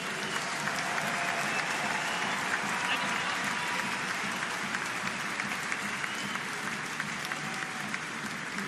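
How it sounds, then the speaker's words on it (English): A large cricket crowd at a T20 match applauds steadily and continuously, a dense wash of clapping and cheering that holds at an even level throughout, with no voices standing out. "You can hear the crowd."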